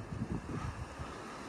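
Steady outdoor wind with low rumbling gusts buffeting the microphone, swelling and easing in a broad, continuous roar on a blustery day with storms around.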